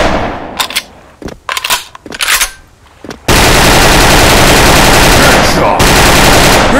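Thunder FN FAL rifle fire in the Special Force video game: after a few short separated shots comes a loud, continuous automatic burst, dense and unbroken to the end.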